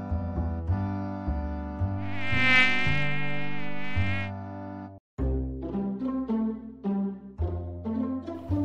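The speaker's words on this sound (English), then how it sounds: "Mosquito." A mosquito buzzing, rendered as a steady high-pitched whine over a loud musical backing, rising and fading in the middle of the passage before the music continues.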